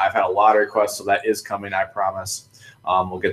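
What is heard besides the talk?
None of the usual background noises is heard.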